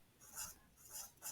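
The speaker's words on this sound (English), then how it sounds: "I'm going to go ahead and write that down here." A pen scratches quietly across paper in a few short strokes while a wave speed value is written down, faint and close with no talking.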